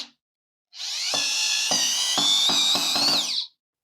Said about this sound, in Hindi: अब मैं इसमें स्क्रू ड्रिल करूंगा।